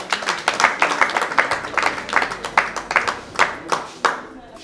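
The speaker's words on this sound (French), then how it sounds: "Est-ce qu'on peut applaudir son mari?" An audience at a charity foundation's donation event applauds with loud, fairly rhythmic hand clapping lasting around four seconds before tapering off, with faint voices beneath.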